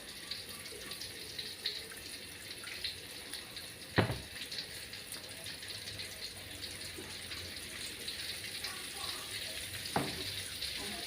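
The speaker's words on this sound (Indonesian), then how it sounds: "apa brambangnya tak gongso dhisik" Shallots sizzling as they fry in a pan in a home kitchen, a steady soft crackle and hiss throughout, with a couple of sharp clinks from a utensil against the pan.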